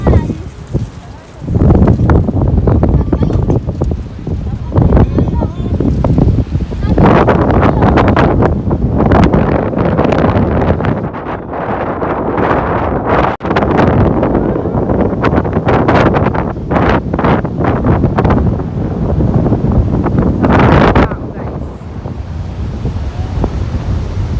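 Strong wind outdoors in Qiding, Taiwan, buffets the microphone in loud, continuous roaring gusts, with surf-like rumble and brief dips between blasts.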